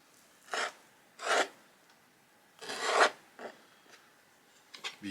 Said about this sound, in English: Use something like a stone blade, it's a little bit more of a sawing action.